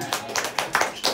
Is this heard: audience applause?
yes